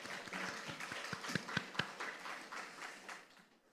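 Congregation clapping in a church during an afternoon worship service, a scattered wash of hand claps with a few sharper claps standing out, fading toward the end.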